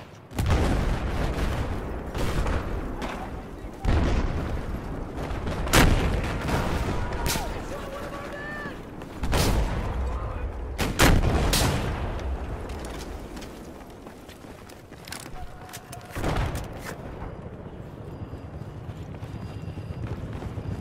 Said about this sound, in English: The building's going down.